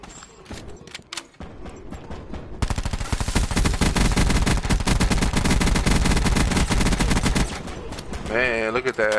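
Rapid automatic gunfire in Call of Duty: Black Ops 4 on PS4, a sustained loud burst of dense shots running for several seconds after a few scattered earlier pops, ending with a warbling game sound.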